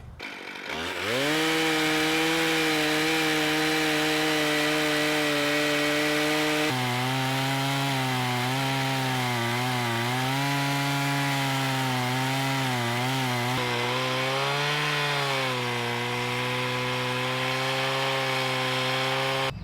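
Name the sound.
chainsaw mill cutting a log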